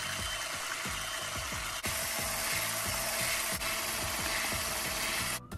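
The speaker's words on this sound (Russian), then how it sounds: "Взбиваю миксером в белую пышную массу." Electric hand mixer whipping three eggs with sugar and a pinch of salt into a white foam for a banana cake, a loud steady whir with rapid rhythmic scraping against the bowl, close up and alone.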